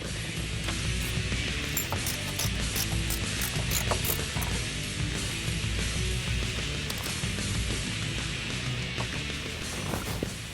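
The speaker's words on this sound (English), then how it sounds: "now we're going to screw it into the dash" Ratcheting clicks repeat steadily as a radio is screwed into the dash of a 1967-1973 Mustang, a quiet continuous mechanical ticking with no voices.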